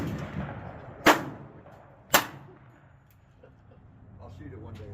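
Two sharp gunshots crack at a shooting range about a second apart, each loud and close with a short decaying tail, against low background murmur and faint voices near the end.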